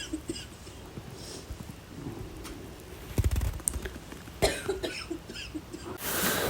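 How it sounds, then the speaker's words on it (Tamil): A sick person coughs several times in short, uneven bursts, the loudest fits near the middle, close and alone in a quiet room with small rustles and a brief noise at the end. "உடம்பு சரியில்லை, நல்ல இருமல்."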